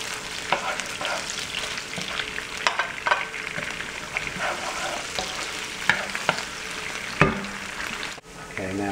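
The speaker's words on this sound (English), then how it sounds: "now we're going to add the anchovies and the peppers. And we'll cook them." Anchovies and peppers frying in oil over medium heat in a pan, an even sizzle broken by scraping stirs and clinks of a utensil against the pan, with no talk.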